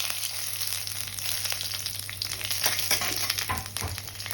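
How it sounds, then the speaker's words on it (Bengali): Whole dried red chillies, bay leaf and panch phoron spit and crackle in hot oil as a tempering for aloo gobi, a dense close sizzle with scattered sharp pops that grow busier toward the end. "এবার আমি গোটা শুকনো লঙ্কা, তেজপাতা আর পাঁচফোড়নটা একটু ফোড়ন দিয়ে দেবো"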